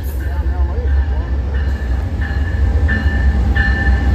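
An Amtrak Southwest Chief pulled by three P-42 locomotives rolls past at Fullerton, a loud, continuous rumble with wheel clatter and a high squeal, while a person speaks over it.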